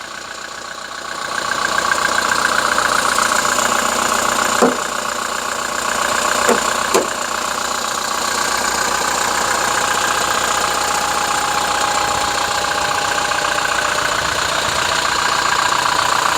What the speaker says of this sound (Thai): ตอนนี้สตาร์ทเครื่องอยู่นะคะ